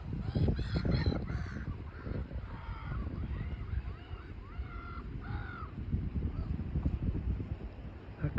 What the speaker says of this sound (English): Black-headed gulls doing their courtship